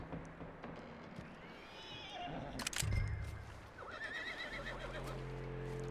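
Horse neighing in Red Dead Redemption 2, in a snowy survival setting, with a loud whinny near the middle and hoof clops and game ambience around it.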